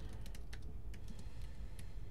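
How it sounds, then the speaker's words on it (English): Keys clatter on a computer keyboard in quick irregular bursts, close and fairly quiet, with short pauses between clusters of keystrokes and no voice. "Wow, I really have trouble typing today."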